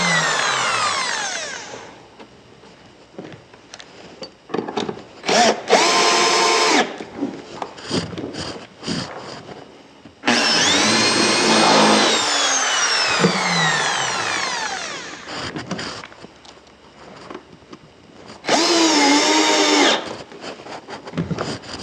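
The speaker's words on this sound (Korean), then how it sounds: "똑같이 드릴로 상판을 고정하십니다" A power drill fastens the top of a wooden drawer cabinet in a woodworking DIY build. Loud, close whirring bursts come in several spaced runs, with brief clicks and handling noise between them and no speech.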